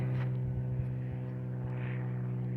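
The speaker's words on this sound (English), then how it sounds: "There's a plane going by." A propeller airplane passes somewhere above a hiking trail near a lake, giving a steady, continuous engine drone that holds evenly throughout with no voices.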